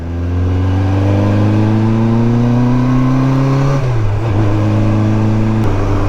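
A BMW K1200 motorcycle-based trike engine revs steadily with a rising pitch, drops sharply midway, then pulls again. The sound is loud and close with no talking.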